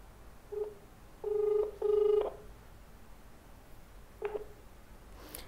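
A telephone keypad sounds a few electronic dialing beeps, two short ones and two longer held tones, in an otherwise quiet room.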